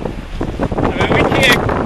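Strong wind gusts across open water on a fishing boat, buffeting the microphone in loud, rough rushes over a short stretch, with a voice faintly mixed in.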